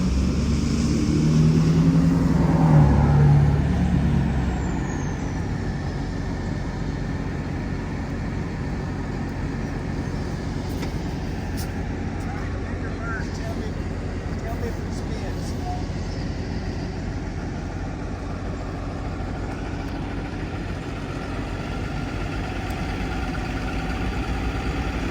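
Gator utility vehicle engine droning steadily at a low pitch as the wheels spin for traction, a continuous drone running throughout, slightly louder at the start, with wind-like noise mixed in.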